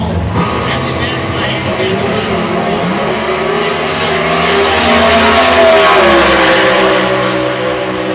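Super modified race cars roar at full throttle, a loud continuous engine drone with rising pitch swells as they accelerate, with a commentator talking over the noise.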